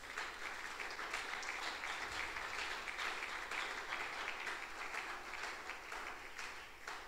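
A church congregation applauding God, a steady dense clapping from a large crowd in a hall, sustained evenly throughout at a moderate distance.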